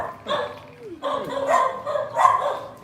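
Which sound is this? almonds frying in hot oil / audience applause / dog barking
dog barking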